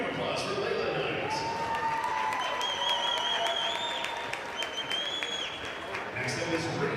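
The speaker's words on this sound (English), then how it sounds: "Big round of applause for Layla Knight." Crowd applause at a high school basketball game in Claremore, Oklahoma, a steady wash of clapping filling the gym for a senior player being honored, with faint whistling and murmuring in the crowd throughout.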